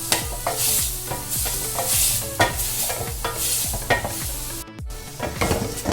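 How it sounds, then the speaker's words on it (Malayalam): A pan of frying ingredients for a crab roast curry sautéed toward golden brown, with a steady sizzle under rhythmic spatula scrapes repeating about every half second, close and fairly loud, one brief pause near the end, no voices. "ഇത് നന്നായിട്ട് വഴറ്റി ഒരു ചെറിയ ഗോൾഡൻ ബ്രൗൺ കളർ ആവുന്ന വരെ നമ്മൾ വഴറ്റുന്നുണ്ട്."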